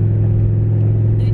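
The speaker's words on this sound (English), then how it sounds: "the muffler" A car with a loud muffler rumbles steadily and close by, a heavy low drone that carries through the whole short stretch with no one talking.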